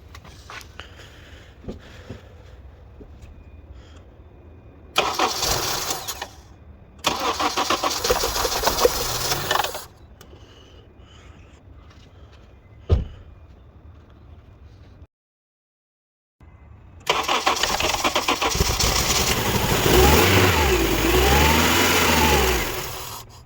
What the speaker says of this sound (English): We're gonna start the engine now.